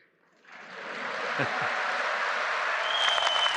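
Crowd clapping during a prime minister's public speech, building from near silence into steady, broad applause from a large audience that holds to the end.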